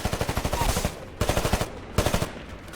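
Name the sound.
heavy gunfire in Titanfall video game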